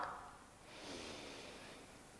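Children in a yoga class breathe through the nose: a short, faint sniff, then a longer, soft exhale that fades out, with no talking.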